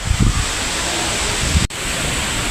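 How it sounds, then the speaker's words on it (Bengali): Strong wind gusts across open ground at a cattle farm ahead of a Kalbaishakhi storm, a loud, broad rushing roar buffeting the microphone. "কী রকম বাতাস চলছে"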